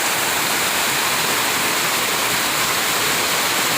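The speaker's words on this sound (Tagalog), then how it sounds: "masyado pong malakas tong ulan na to" Heavy rain pours down during a strong storm as a dense, loud, unbroken hiss of water with no pauses and no voices.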